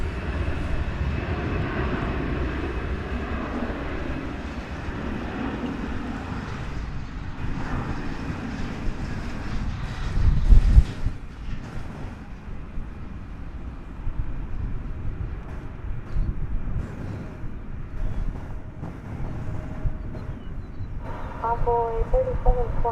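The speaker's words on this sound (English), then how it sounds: "Delta Flight 1269 is now rolling." A Delta airliner bound for Salt Lake City rolls for takeoff at DFW Airport, its engines a broad, sustained roar rising and swelling at a distance, with radio chatter and a voice talking over it.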